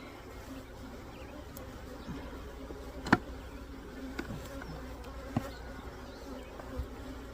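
Honey bees in an opened hive give off a loud, steady buzzing drone that fills the whole stretch, with a few brief sharper knocks or clicks rising above the swarm now and then.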